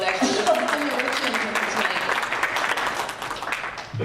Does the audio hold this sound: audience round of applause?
yes